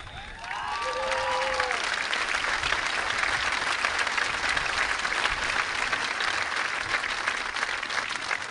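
Sustained audience applause fills a high school graduation ceremony hall, a dense steady wash of many hands clapping that swells quickly after a brief start and holds for several seconds, with a faint tonal chirp early on.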